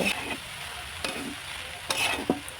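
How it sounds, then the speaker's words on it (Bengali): Chopped spinach and vegetables sizzle in a pan, with a spoon scraping through them in a few separate stirring strokes over the steady frying hiss. "এবার আমি কুচে রাখা পালং শাকগুলো এর মধ্যে দিয়ে দিলাম"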